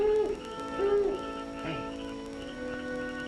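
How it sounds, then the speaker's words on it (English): A mockingbird call from a 1944 film, made of clear, repeated tonal whistles with sliding pitches, moderately loud over a steady background hum. "It's a mockingbird."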